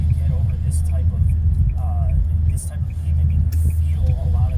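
Low rumble of a car rolling over rough pavement, felt as vibration in the cabin: a constant deep drone under the tires with occasional higher squeaks and taps, heard from inside.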